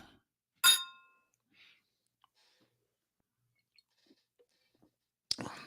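Glasses clink together in a toast, a bright single ring near the start and another sharp clink at the end, with faint small taps in quiet between.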